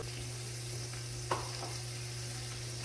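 Butter sizzling in a hot pan after chicken breasts are taken out, a faint steady fizz over a low hum with one brief clink partway through, no speech.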